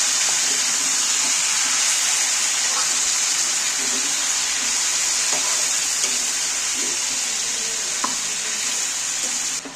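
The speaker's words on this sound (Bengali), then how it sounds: "মাংসটা নাড়াচাড়া করব।" Chicken being stirred in a pot while cooking for biryani gives a loud, steady, close sizzle with occasional soft scrapes of the spoon, and no talking.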